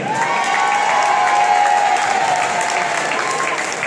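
Large crowd applauding steadily at a political fish fry, a dense, loud, continuous wash of clapping with some cheering mixed in, sustained throughout without letup.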